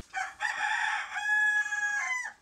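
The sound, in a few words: Bigawi chicken rooster crowing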